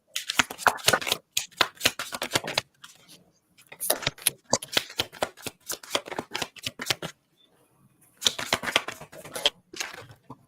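Bursts of close shuffling, like cards being riffled, come in three busy clusters separated by short silent gaps, loud and crisp with no voice over them.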